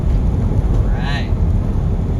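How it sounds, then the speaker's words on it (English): A van's turbocharger whirs while driving on the road to San Francisco, rising as a brief whine over the steady low rumble of road and engine noise. "You can hear the whirring of the turbocharge."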